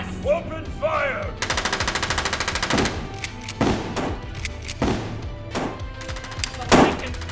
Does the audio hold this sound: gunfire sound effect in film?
yes